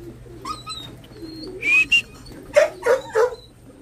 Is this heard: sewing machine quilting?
no